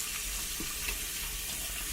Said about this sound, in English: drained the water out of it because I had just about a tablespoon of water on top of the container